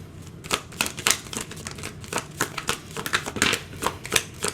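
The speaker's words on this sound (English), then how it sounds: "I'm just pulling some more cards here" Tarot cards being pulled and shuffled, a series of quick papery riffles and flicks in irregular bursts, close up and fairly quiet, with no talking.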